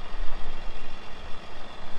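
A 150,000-watt generator mounted on a weed-zapping tractor drones steadily up close, a loud, dense low-frequency engine rumble with slight pulsing and no voices.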